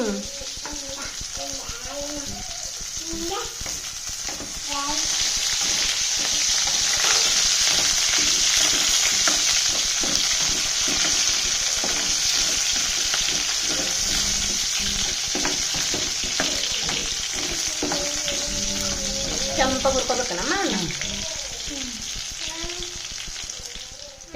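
Garlic and cumin fry in hot oil, a loud, steady sizzle that swells after the first few seconds and holds, with voices talking over it at the start and again near the end.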